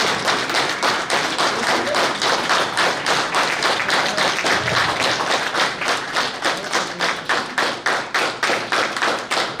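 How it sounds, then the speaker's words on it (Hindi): Steady rhythmic clapping from a large crowd fills a convention hall at an annual neurotherapy gathering, loud and sustained for nearly ten seconds, turning into a brisk unison beat toward the end. "तालियां की गड़गड़ाहट से पूरे हॉल गूंजनी चाहिए"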